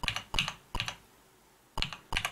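Computer keyboard being typed on to enter a hostname, close and clear, with short bursts of crisp clicking keystrokes separated by a pause.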